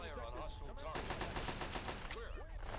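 Rapid bursts of automatic gunfire from a bandit firefight in Fallout 3 crackle loudly through the middle of the scene, with game voices and ambience before and after the volley.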